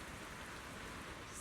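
Rain in Zenless Zone Zero, a steady faint hiss of drops pattering evenly on surfaces, soft and unbroken through the whole brief moment with no voices over it.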